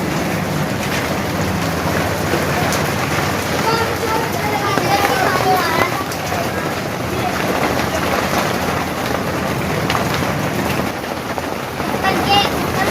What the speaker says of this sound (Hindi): आज इनके बारिश हो रही है, बारिश की बात ही आगे होगी।